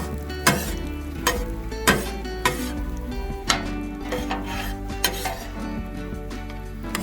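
Chorizo and potato fry in a greasy pan, a continuous close sizzle broken by regular sharp scrapes and clinks of a utensil stirring against the metal.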